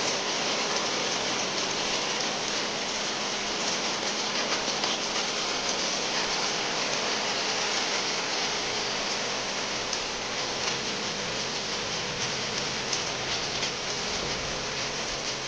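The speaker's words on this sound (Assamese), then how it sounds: "সেইকাৰণে বৰষুণ আহি আছে" Steady rain falls continuously and evenly across the whole stretch, a dense broadband hiss of drops on surfaces with no voices and no breaks.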